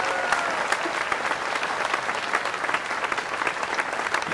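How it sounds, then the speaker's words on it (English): Sustained applause from a large crowd at a university graduation ceremony for doctoral graduates, dense and even clapping that continues steadily throughout. "Let's have a nice round of applause for all our doctoral graduates"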